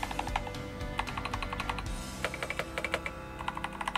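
Typing on a stock, unmodified 65% mechanical keyboard: quick, close keystroke clicks in irregular bursts with short pauses, heard alone with no voices.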